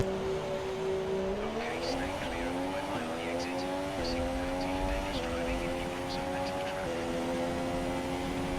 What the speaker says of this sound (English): So we're coming out of the pits now, getting overtaken by lots of back markers.